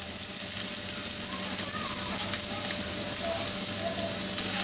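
Chopped onion and garlic sizzle in hot oil in a saucepan-style wok over lowered heat, a steady close hiss with faint spoon scrapes and a soft tone running underneath.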